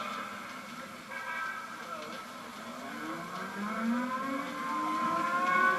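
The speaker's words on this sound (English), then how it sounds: "There goes the alert siren." A 1950s civil defense alert siren wails, its tone slowly rising and swelling in volume over several seconds, heard amid distant urban noise.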